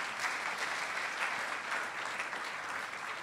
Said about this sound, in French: Pouvez-vous acclamer le Seigneur pour cela?